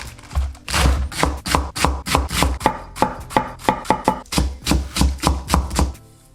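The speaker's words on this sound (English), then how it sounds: "Thinly slice the red onion into a round shape." A knife slices thinly through red onion and lettuce for a chicken burger, giving a steady run of crisp, close chops and crunches on a board, about two dozen quick strokes in an even rhythm with no talk.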